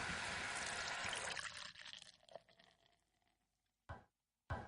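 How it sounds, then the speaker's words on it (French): White wine poured over tripoux and garlic in a pot, a steady splashing pour that fades to a faint trickle, followed by two short bursts of noise. "et on recouvre de vin blanc"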